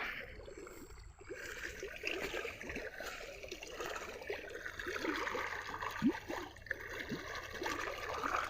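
Irrigation water runs through a sorghum field on a Gujarat village farm, a low, uneven gurgling trickle with occasional splashes and rustles, fairly close, no voices.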